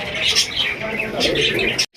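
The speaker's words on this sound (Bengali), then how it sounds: "দেখার মতো জোড়া কবুতর" A pair of pigeons kept for sale coo close by in soft, rolling calls, with a voice mixed in underneath.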